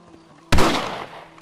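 A single sharp rifle gunshot in the Red Dead Redemption video game, a loud crack after a quiet moment, with a decaying tail of echo lasting about a second.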